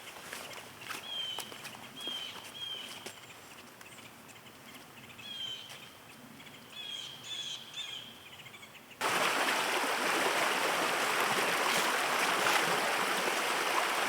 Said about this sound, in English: this is Dewey Spring. It's a wet weather spring